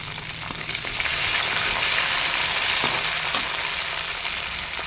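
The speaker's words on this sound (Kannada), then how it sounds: "ಕರಿಬೇವನ್ನ ಹಾಕ್ಕೊತಾ ಇದ್ದೀನಿ" Curry leaves drop into hot oil for pudina rice, a loud crackling sizzle that swells and keeps hissing steadily.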